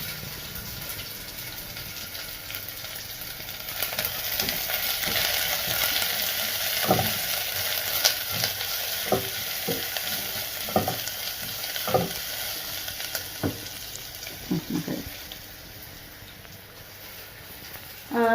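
Onions frying in a pan for a mushroom pepper fry, a steady sizzle with irregular stirring scrapes and taps running throughout at moderate level, with no talk.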